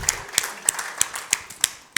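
An audience claps at a software-testing tech talk at a conference, giving a short run of sharp, evenly spaced claps at a steady rhythm with no talk over them.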